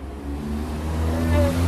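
A passing car revs its engine on a street, a loud close mid-pitched roar that climbs steadily in pitch over a couple of seconds, with no talking over it.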